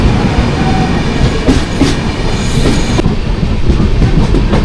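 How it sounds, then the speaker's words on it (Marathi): A Rajdhani Express passes close by in a steady, loud rush of rolling wheels and rattling carriages, with a little clickety-clack and no voices. "राजधानी एक्सप्रेस आले"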